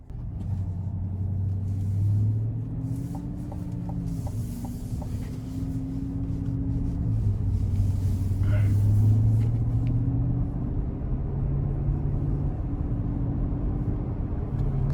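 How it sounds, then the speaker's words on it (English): A 2022 GMC Yukon AT4 with magnetic ride control cruising on the road, heard from inside the cabin as a steady low engine and road rumble with shifting hum, rising and falling gently throughout. "we're gonna go ahead and take this Yukon AT4 out on the road for a quick test drive."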